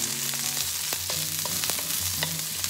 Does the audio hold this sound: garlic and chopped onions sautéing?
yes